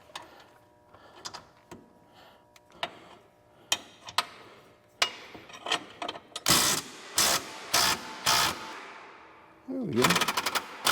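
Ratchet working loose the bottom bolt of a Can-Am off-road vehicle spring, sparse clicks that build into louder rapid ratcheting bursts, close by in a quiet workshop.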